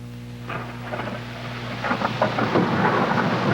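Thunder rumbles low and heavy over steady rain, the storm swelling louder toward the end as crackling bursts and dense rainfall fill the scene.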